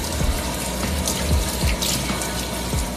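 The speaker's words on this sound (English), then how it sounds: "then I will rinse it off with water." Water splashing from a running tap as cleanser is rinsed off the face at a sink, a steady close wash of water with soft splashes and no talking.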